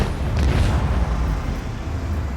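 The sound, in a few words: macro cannons firing in video game Warhammer 40K: Rogue Trader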